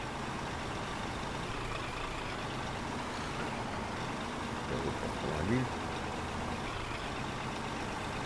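A Scania R420 truck with 4x6 drive in Spin Tires runs on a coastal map, its engine giving a steady, moderately loud diesel rumble while someone talks briefly over it.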